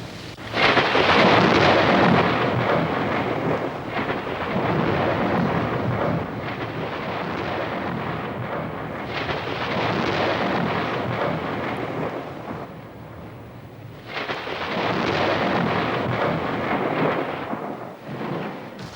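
Thunderstorm at night in a forest region, with heavy rain hissing throughout and long rolling thunder rumbles swelling and fading in loud waves, no voices.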